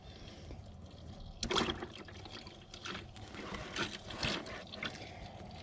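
Oil drains from a Sany machine during its first oil change, a faint trickle and gurgle of liquid running steadily for several seconds with a few louder splashes.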